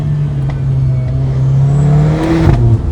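A Mercedes-AMG A45 hot hatch engine revs loud and close, with a sustained rising drone that climbs and then drops sharply near the end, and no talking over it.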